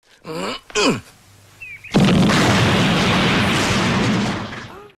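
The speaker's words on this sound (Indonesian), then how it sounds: "Lalu Batsah melempar bom permen yang membuat Manichan dan Saksena hangus." A candy bomb explodes in a film scene: a sudden loud blast swells into a sustained roaring rumble lasting about three seconds before fading, preceded by brief vocal sounds.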